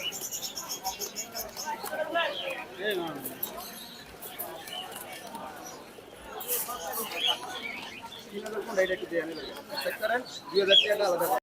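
Pigeons coo in low, throaty bursts amid a busy crowd at the Mirpur 1 pigeon market in Dhaka, with people talking and chattering around them throughout.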